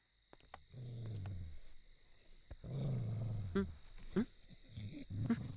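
Several dogs at a house giving low growling, snarling vocalizations in a few separate bursts, fairly close, with brief sharper sounds between them and no speech.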